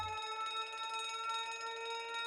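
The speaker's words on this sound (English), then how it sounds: "Uh-oh, that sounds like an alarm." An alarm goes off in a video game, a steady electronic ringing of stacked sustained tones that holds loud and unbroken throughout, with no talking over it.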